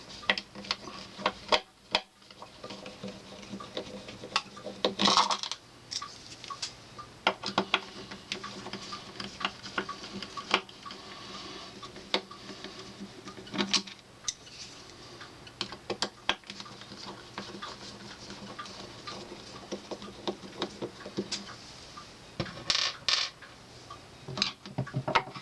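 Three screws come out of a Taya DP-500 motor housing, heard as intermittent small metallic clicks, ticks and taps from a screwdriver and parts being handled up close against a faint background hum.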